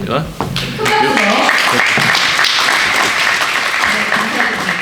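Big applause from a crowd at a Korean community briefing event in Atlanta, loud sustained clapping that swells after a brief opening and fills the room, with voices talking over it.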